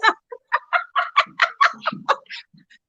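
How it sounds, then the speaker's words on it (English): A pet bird gives a rapid series of about a dozen clucking, laugh-like calls, close and fairly loud, with short gaps between bursts and nothing else behind them. "And my bird's laughing."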